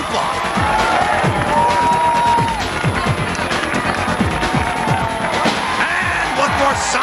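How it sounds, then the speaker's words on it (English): A crowd cheering and shouting at a Robotica robot battle, a loud, steady roar with whoops over thudding impacts and clatter, while a voice talks over it. "A big response from the crowd there. They're loving it."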